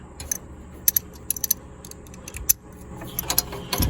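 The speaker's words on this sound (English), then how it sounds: "When you're tightening up this these bolts for this collar here, you want to make sure you're going back and forth." A hand ratchet tightens collar bolts on a Kawasaki Prairie 300 ATV, giving short bursts of sharp metallic clicks with pauses between strokes, close up and fairly loud, with no voices.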